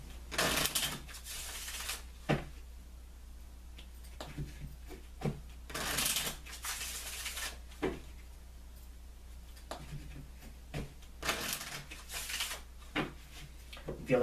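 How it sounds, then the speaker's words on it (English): A deck of Kipper cards being shuffled by hand, with repeated short bursts of crisp papery clatter and riffling separated by quieter pauses, close and clear with no talking. "I'm going to take a moment to shuffle the cards"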